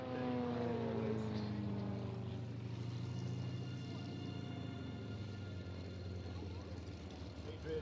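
A propeller aircraft at an air display drones from a distance, its engine tone shifting as it passes, while a commentator talks over it.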